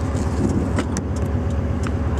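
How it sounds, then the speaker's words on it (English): Steady low road and engine rumble from inside a moving car in Japan, continuous and close, with a few faint high clicks and rattles and no talking. "And I'm driving right now"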